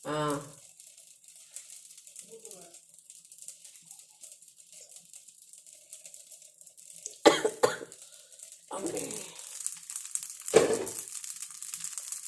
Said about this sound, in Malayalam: ഇടയ്ക്കിടയ്ക്ക് ചുമ വരും